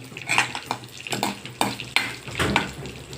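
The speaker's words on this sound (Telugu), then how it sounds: "ఆవాలు చిట్టపట్ట తేలేంత వరకు ఉంచుకొని" Mustard seeds, a dried red chilli, crushed garlic and curry leaves fry in hot oil for a cucumber chutney tempering, a close, dense crackling sizzle with a few sharp pops and spoon scrapes.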